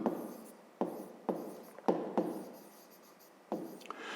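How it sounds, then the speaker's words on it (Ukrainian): A pen scratches across paper in several short bursts, each starting with a soft tap and trailing off, close and quiet with brief pauses between strokes. "Отже, записуємо"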